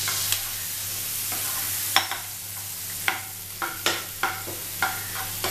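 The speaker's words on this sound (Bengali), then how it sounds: "পেঁয়াজটা হালকা ভাজা ভাজা হবে" Chopped onion frying in a pan for a noodle keema omelette, a steady soft sizzle with repeated sharp scrapes and taps of a spatula stirring, close and without talk.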